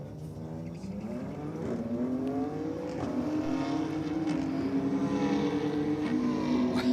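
A BMW Coupe and a Ford Falcon drag racing down the strip, engines droning and climbing steadily in pitch through the gears, moderately distant and continuous with no talk.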